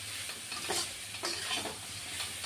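Garlic, onion and ginger paste frying in a pan, a soft close sizzle with intermittent scraping stirs, quiet and without voices.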